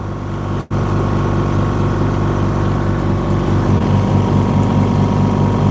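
Noisy air compressor running steadily up close, a continuous low mechanical drone with a brief dropout near the start, then an unbroken hum through to the end.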